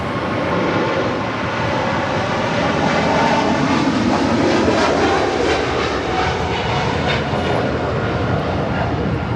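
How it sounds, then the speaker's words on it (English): Nippon Cargo Airlines Boeing 747-8 freighter departing LAX for Tokyo Narita, a powerful four-engine jet roar that swells and holds steady, loud and near, with a broad rumbling texture and no voices. "This is Nippon Cargo Airlines 101 departing to Tokyo Narita on a 747-8 freighter"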